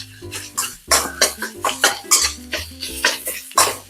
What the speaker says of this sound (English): we're just going to chop all this up, get it mixed in here.